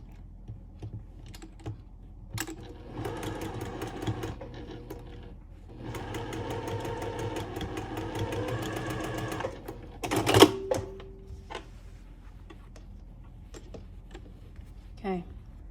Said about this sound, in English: I'm just gonna sew in the side just a little bit more in